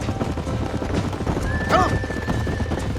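Horses in the Red Dead Redemption video game clip-clop steadily over the ground while one lets out a clear neigh partway through, close and moderately loud over a soft background.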